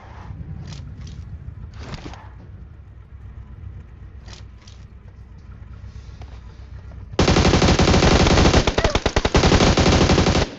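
Gunfire in a battle royale video game: a few scattered single shots early on, then a loud sustained burst of rapid automatic fire dominating the final seconds.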